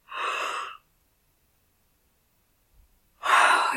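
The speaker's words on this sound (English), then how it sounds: "The yawning is clearing." Two breathy yawns sound close and alone, separated by nearly three seconds of silence.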